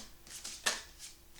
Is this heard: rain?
no